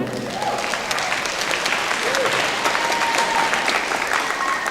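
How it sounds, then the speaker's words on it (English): Crowd applause at a school gala for Lakota Tech, sustained dense clapping from many people at steady volume, with faint voices and a whistle or two mixed in. "round of applause for Miss Bordeaux."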